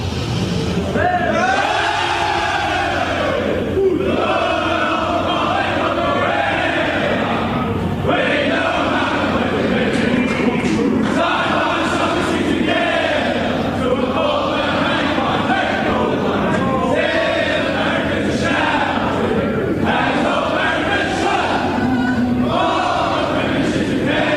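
Australian football players and spectators with linked arms sing the club song in a packed post-match room after a Collingwood v Western Bulldogs finals game, a loud group chorus under rowdy crowd noise.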